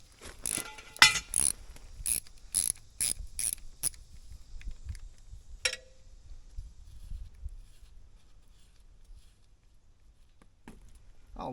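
A ratchet wrench clicks in quick rhythmic bursts on an old mini excavator, up close and fairly loud, then tapers into scattered faint taps and quiet handling.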